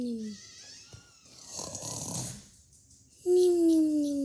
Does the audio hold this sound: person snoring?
yes